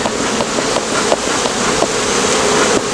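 A swarm of honey bees being rescued from a hive with its frames opened and smoked hums and buzzes close by in a dense, continuous drone, with a few sharper rises as single bees pass near.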